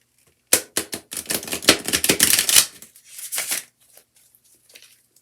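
A deck of tarot cards is riffled and shuffled close up in a rapid burst of crisp flutters, followed by a shorter shuffle and quiet card handling, with no talk.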